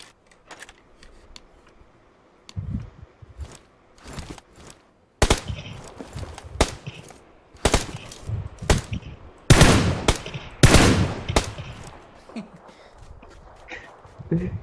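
Gunfire in the battle-royale game PUBG Lite, with scattered single shots and sharp bursts ringing out at varying distances, some loud and close, amid quieter clicks and movement sounds.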